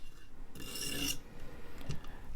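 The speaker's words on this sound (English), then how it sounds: "that's how you can sharpen serrations" A serrated knife blade being sharpened to remove the burr, heard as a short rasping scrape of about half a second followed by a fainter brief rub, close and alone.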